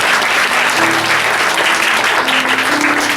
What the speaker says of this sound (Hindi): ताली बजाएंगे परमेश्वर